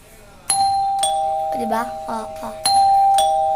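A doorbell rings out loud and close in several sharp electronic tones, sounding roughly three times at about one-second intervals with long ringing tails, and a person speaks briefly between the rings.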